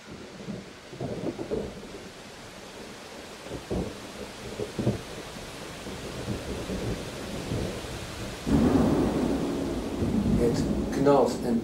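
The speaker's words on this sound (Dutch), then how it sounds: "En dondert buiten het onweer." Thunder rolls outside during a thunderstorm, low rumbling swells with rain hiss underneath, growing louder and closer near the end; a voice talks quietly in places.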